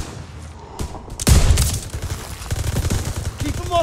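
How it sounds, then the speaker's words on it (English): Heavy machine guns open fire in Call of Duty: WWII, with a sudden loud burst of rapid automatic shots followed by sustained rattling gunfire and scattered battle noise. "MGs, open fire."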